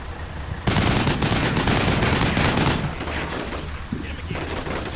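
A Humvee's mounted machine gun firing in Combat Mission: Black Sea, a loud continuous automatic burst kicking in abruptly and rattling on for several seconds, with a short dip before resuming.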